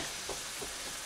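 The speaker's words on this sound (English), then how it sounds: "And then the onion, that all goes in. And then we let that fry down for a bit." Onion frying in hot fat, giving a steady, dense sizzle close by with a couple of soft bubbling pops, alone without voices.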